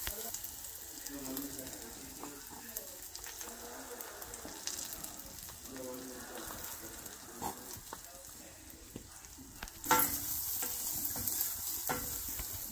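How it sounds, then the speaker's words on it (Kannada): Curry leaves hit hot oil while masala peanuts fry, giving a crackling sizzle with stirring scrapes and spoon clinks, plus a sudden louder burst of spitting near the end as more goes into the pan. "ಇವಾಗ ಕರಿಬೇವಿನ ಸೊಪ್ಪು ಹಾಕ್ತೀನಿ."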